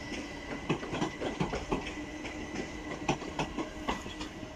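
Class 387 electric multiple units depart Didcot Parkway on the Great Western main line toward London Paddington, a steady rumble with rhythmic clickety-clack of wheels over rail joints at moderate distance.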